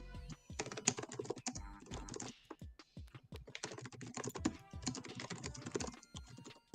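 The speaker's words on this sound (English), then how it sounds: "Sorry, I'm typing." Rapid, uneven clatter of computer keyboard typing during a live card game stream, in bursts with short pauses, fairly close and moderately quiet, with no talking.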